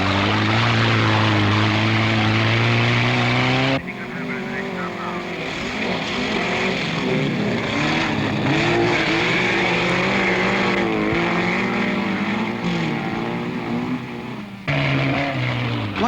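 A 1970s saloon car races in an autocross event, its engine droning loud and busy from inside the stripped cockpit with shifting pitch as it changes gear, while someone narrates over it.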